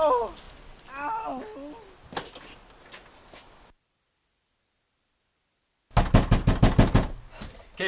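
A rapid series of about eight sharp knocks on a door comes close and loud after a pause of silence, following brief speech and movement at the start.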